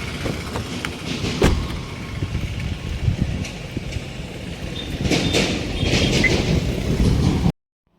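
A train rolls past a railway level crossing with a rumbling drone and scattered metallic clatter. The noise swells louder near the end, then cuts off abruptly.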